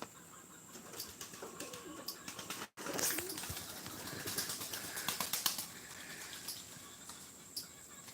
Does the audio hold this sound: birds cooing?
yes